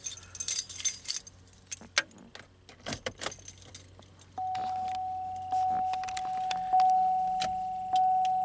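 Car keys jangle in bursts, loud and close, then a steady electronic tone and faint clicks follow from a 2003 Pontiac Grand Am being fixed for a hazard switch fault.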